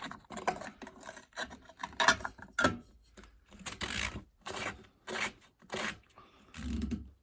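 A part is screwed into a Bosch WFP3300 washing machine, giving repeated short scraping and rubbing bursts in an irregular rhythm, close and fairly quiet, with no talking.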